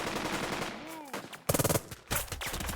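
Gunfire in the wartime squad-tactics game Burden of Command: scattered shots, then loud bursts of rapid automatic fire in two clusters, with a voice briefly audible early on.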